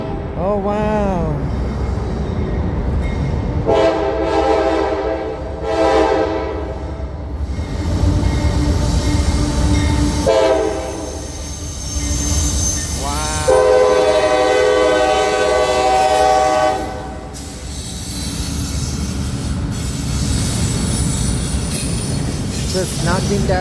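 A CPKC freight train rolls loudly through a railroad crossing, its horn sounding in long blasts over the steady rumble and clatter of the cars, while the crossing bells keep ringing the whole time.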